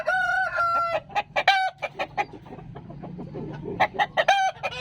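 Young chickens around 3 kg, Peruvian American gamefowl, cluck and crow close by, with several loud strained crows over a busy run of clucks.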